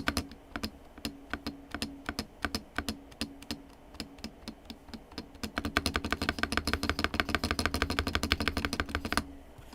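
A computer keyboard with a wobbly spacebar is typed on, giving sharp, close, clacky key strikes. They start at a measured pace and then speed up into a rapid, dense burst before stopping.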